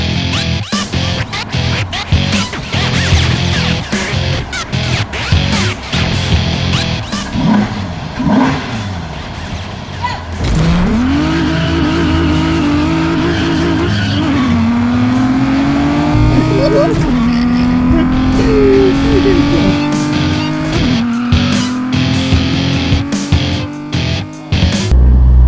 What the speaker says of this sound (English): we use speakers to sound like we're street racing